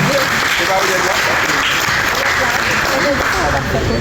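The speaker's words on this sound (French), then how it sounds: "Sur vos applaudissements, s'il vous plaît" Applause from an audience at a book presentation, a dense, steady wash of clapping that holds at an even level throughout, with voices talking underneath.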